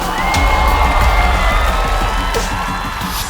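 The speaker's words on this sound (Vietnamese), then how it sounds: "Vỗ tay." Studio audience at a game show cheering and applauding: a loud, dense crowd roar with whoops and clapping that holds steady throughout.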